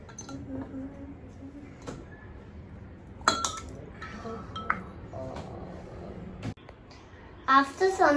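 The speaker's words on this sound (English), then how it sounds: "I'm adding 2 ice cubes in both the glass." Two ice cubes clink into drinking glasses in a quiet kitchen setting, a few sharp glassy taps spread out over several seconds with faint handling noise between.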